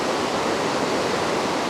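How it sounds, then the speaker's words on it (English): Floodwater of the Merced River pours and cascades over a rock, a loud, steady, broadband rush that fills the whole moment without a break, close at hand and uninterrupted. "Look how the water just kind of comes cascading over the top of that."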